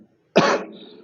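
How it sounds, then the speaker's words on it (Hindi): A single sharp cough bursts out after a moment of silence, loud and close, trailing into a rougher throat-clearing tail. "मुझे थोड़ा खांसी है इसलिए बार बार उठ जाती है थोड़ा"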